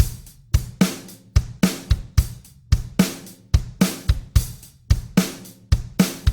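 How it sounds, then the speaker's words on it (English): A drum pattern loops with punchy kick drum hits and crisp cymbal or snare strikes in a steady, syncopated rhythm, played alone. "you can hear the kick drum playing a pattern like this."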